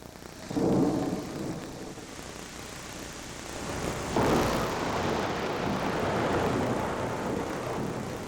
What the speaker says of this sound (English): Lightning lit up the sky and torrential rains fell across central Iowa.